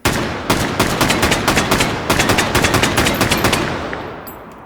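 Rapid full-auto bursts from an FAL battle rifle chambered in 7.62, recreated in a Call of Duty Black Ops setting, loud close sharp reports in quick regular succession, a brief pause and then another long string tailing off.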